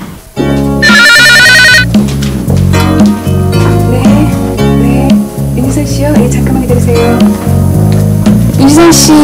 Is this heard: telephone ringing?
yes